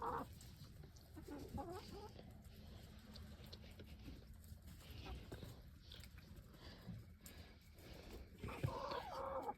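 Backyard chickens cluck softly and intermittently over a low ambient background, fairly faint, with a louder cluster of clucks near the end and no clear talk.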